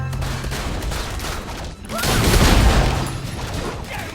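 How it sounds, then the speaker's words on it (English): Cannons fire in the video game Blade & Soul as a rumbling barrage of booms and blasts, loud and dense, swelling in the second half amid battle noise and voices. "Look how powerful our cannons are!"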